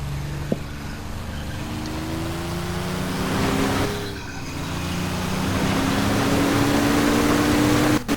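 A P-40 fighter's propeller engine in a flight game roars at full torque, a loud continuous drone whose pitch climbs steadily, dips briefly, then holds high and strained until it cuts off abruptly at the end.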